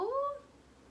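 During a children's puppet storytime, a single short, rising-then-falling meow is made by a human voice imitating a cat, then fades into quiet room noise.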